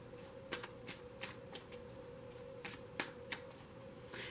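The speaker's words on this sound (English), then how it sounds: "I'm going to keep shuffling as I speak." Tarot cards are shuffled by hand in soft, quiet riffling and flicking bursts with an irregular rhythm, close by over a faint steady background hum.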